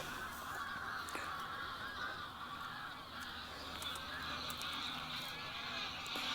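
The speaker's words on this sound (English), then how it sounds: "Must be nearly 100 geese there." A flock of nearly a hundred geese honks at Boddington Reservoir, a busy overlapping chorus of calls carrying from a distance across open water, with no voices.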